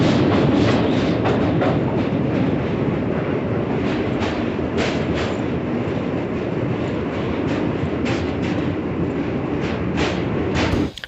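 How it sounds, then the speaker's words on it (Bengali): Vibhuti Express passenger train, number 12333, running on rails from Jasidih Junction toward Varanasi, heard as a loud, steady rumble with rhythmic wheel clatter throughout, alone without talk. "জেসিডি জংশন থেকে ট্রেন নাম্বার 12333 বিভূতি এক্সপ্রেসে করে আমরা বারাণসীর উদ্দেশ্যে রওনা দিই"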